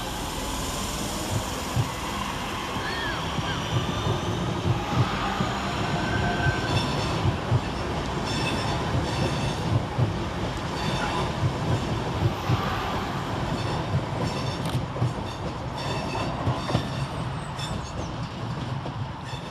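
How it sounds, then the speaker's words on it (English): A pair of West Midlands Railway class 323 electric units pulling out of Aston station, a sustained rumble of wheels on track with clacking joints and some wheel squeal, heard from the platform with no talking. "Next train to depart is 323210 and 323206 with the 1113 West Midlands Railway service at Birmingham New Street to Lichfield Trent Valley."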